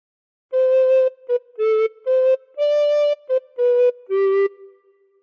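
A recorder plays a slow phrase of the Welsh melody Ar Hyd y Nos, with clear sustained breathy notes, a few quick short ones between them, close and solo.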